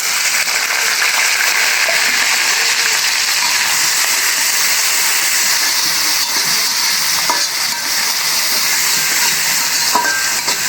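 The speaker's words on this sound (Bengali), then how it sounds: "তেল দিয়ে দিছি এখন দিয়ে দেবো পেঁয়াজ কাঁচামরিচ" Onions and green chilies frying in hot oil in a pan, a steady broadband sizzle that holds loud and even throughout with faint scattered clicks, no talking.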